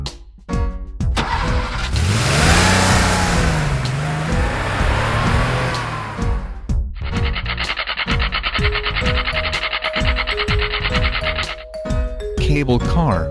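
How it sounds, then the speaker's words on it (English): A cartoon taxi car's engine cranks and revs, followed by a buzzy, rattling idle and a few tonal effects, loud and layered with synthetic sound effects throughout. "Taxi."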